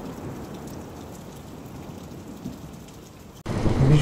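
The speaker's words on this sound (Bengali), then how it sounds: "এই রে ঝড় বৃষ্টি আসছে" A stormy night in a cartoon horror story brings dense rain with thunder. Steady rainfall hisses evenly, then surges abruptly louder near the end, with no voices.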